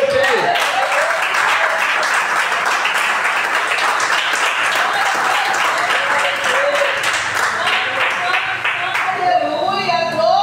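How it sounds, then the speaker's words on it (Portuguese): Church congregation applauding together during a sermon, dense sustained clapping throughout with a preacher's voice talking over it. "Você pode aplaudir o Senhor, querido."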